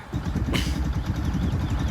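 A motorcycle engine runs at a steady idle, close and loud, with a low continuous rumble and a brief rise in noise near the start of the clip.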